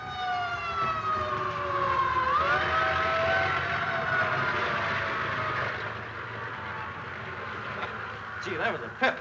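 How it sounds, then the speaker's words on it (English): A fire engine siren wails loudly and sweeps downward in pitch as it passes close by, in a 1936 film, with traffic rumble beneath and a short burst of noise near the end. "Hey, fire engine!"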